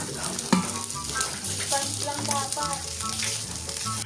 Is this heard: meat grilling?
yes